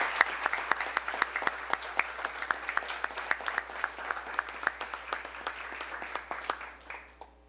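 A city commission meeting audience gives city workers and utilities staff a round of applause, steady overlapping clapping with sharp individual claps standing out, sustained for several seconds in an indoor chamber before tapering slightly.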